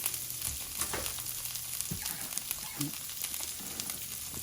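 Diced potatoes and onions fry in a skillet with a steady, close sizzle and crackle, broken by a few soft scrapes and clicks as they're stirred, with no talking.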